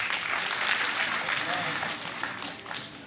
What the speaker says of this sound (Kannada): ಅದಕ್ಕೊಂದು ದೊಡ್ಡ ಚಪ್ಪಾಳೆ.